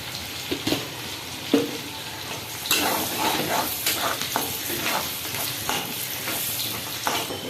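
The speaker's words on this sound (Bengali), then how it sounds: "পেঁয়াজ কুচি আর এই কাঁচা লঙ্কাটা লাল লাল করে ভাজা করে নেবো" Chopped onion and green chili sizzle steadily in hot oil with a little sugar, with occasional spoon scrapes and stirring knocks against the pan.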